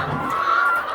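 Layer hens, red hens fed on crushed organic corn, cluck on a Ghana chicken farm, a close, steady, continuous burst of fowl calls with no talk over it.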